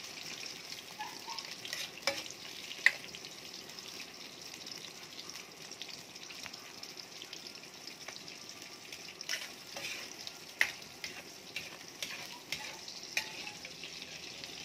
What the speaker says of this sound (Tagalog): Prito-prito lang namin yan,